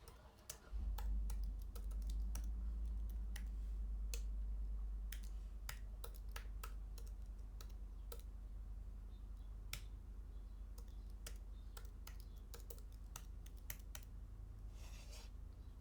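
Typing a username into a period-tracker app sign-up screen on a computer keyboard: a steady run of crisp, close keystroke clicks, irregular in rhythm, over a low background hum, with no talking.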